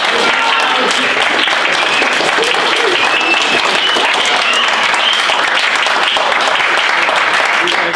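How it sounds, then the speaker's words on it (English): Loud, sustained audience applause at a scripted comedy show, a continuous wash of clapping and some crowd noise filling the whole stretch at even volume. "can I get some round of applause?"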